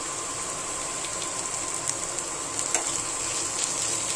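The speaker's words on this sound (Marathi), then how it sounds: "तेलामध्ये ना चांगलं फ्राय होऊन द्यायचं हे पेस्ट." Garlic paste fries in hot oil in a pan with a steady, fine sizzle and faint crackles, continuous and close, with no talking.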